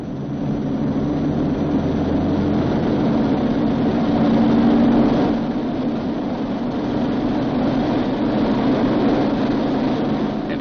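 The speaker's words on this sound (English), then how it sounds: "He releases the parking brake and adjusts the engines for full military power" Four piston engines of a B-29 bomber throttle up toward full military power for takeoff, a dense, steady roar with a low drone that swells briefly mid-way and continues without pause.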